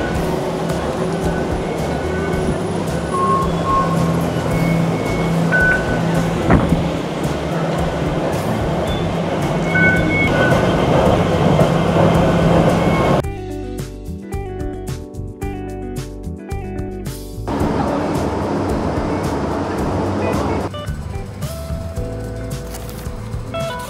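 Ride aboard a Hong Kong train, a continuous rolling rumble and hum of the car in motion with a pause where the noise drops and shifts, heard from inside at steady volume.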